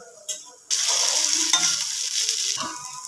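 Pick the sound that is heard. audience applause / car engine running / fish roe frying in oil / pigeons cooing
fish roe frying in oil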